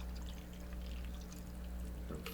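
A mixed whiskey cocktail being poured from a shaker into a tall glass for a tailgate drink, a steady liquid pour with a brief brighter splash near the end, close and continuous with no talking.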